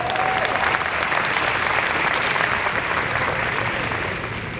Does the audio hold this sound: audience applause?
yes